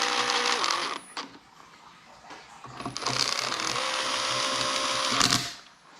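Bolts on a Honda A2 / Acura CG transmission case are tightened with a tool, giving a close, loud mechanical whirring in two long bursts separated by a brief quieter gap.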